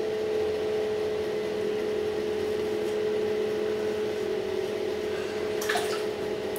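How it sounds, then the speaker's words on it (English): A fan in a bathroom hums steadily and evenly at moderate volume, a constant tonal drone with airy background hiss. "Sorry about the fan"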